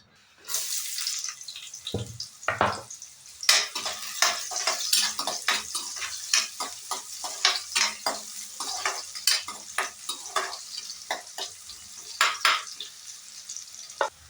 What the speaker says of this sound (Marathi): कढईमध्ये थोडंसं तेल टाकते ह्याच्यामध्ये टाकायचं आहे कांदा